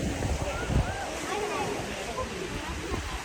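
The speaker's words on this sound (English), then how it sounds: "here it is, the highest waterfall on the Emerald Pools" Waterfall at Emerald Pools in Zion National Park, a steady broadband rush of falling water that fills the whole clip, close and fairly loud, with voices faintly mixed in.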